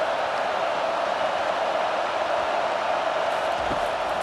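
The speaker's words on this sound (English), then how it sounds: "Fans are bringing the noise on 1st and goal." A stadium crowd roars in the College Football 25 video game on first and goal, a dense, continuous wall of noise at steady volume throughout.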